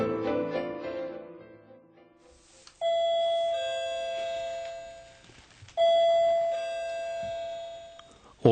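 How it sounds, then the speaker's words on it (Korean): An officetel doorbell plays a short, cheerful chime twice, each two-tone ding-dong ringing out and decaying, heard indoors after a stretch of quieter background sound. "오피스텔의 초인종이 짧고 경쾌하게 울린다"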